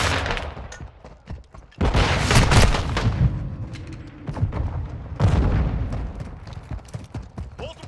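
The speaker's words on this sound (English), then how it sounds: "Throwing flash grenade!" A flash grenade in Call of Duty: Modern Warfare II goes off with a sudden loud bang, and a second heavy blast follows a few seconds later amid ongoing gunfire and combat noise.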